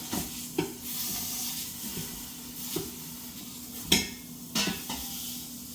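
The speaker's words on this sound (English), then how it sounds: "While we're waiting for that roast to sear up" A beef roast sears in an Instant Pot, a steady hiss of sizzling fat under intermittent clanks and scrapes of a utensil against the pot, several distinct knocks spaced a second or so apart, close and fairly quiet, no talk.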